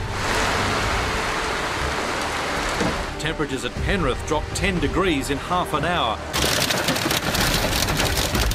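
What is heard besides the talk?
heavy pelting rain in a storm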